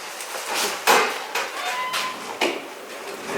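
Someone pulls out and latches a ladder on a Subaru Forester, producing a few sharp metallic clanks and rattles spaced irregularly at close range.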